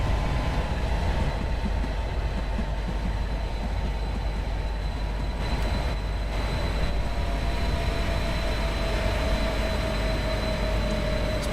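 Simulated train in Train Sim World 2 rumbles along steadily, a constant dense rolling roar with a faint high tonal whine that drifts downward late on, no talking.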